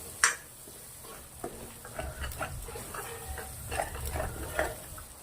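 Fresh cream roasts in a pan for a paneer gravy, a soft, low sizzle under scraping stirring strokes of a spoon against the pan, close and fairly quiet, with occasional clinks.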